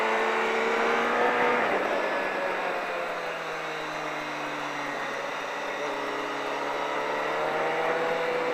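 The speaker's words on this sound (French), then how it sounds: "je relève la moto et j'accélère" A motorcycle is picked up and accelerated on a practice course. Its engine drones steadily and fairly loud, with the pitch dropping slightly as it pulls away.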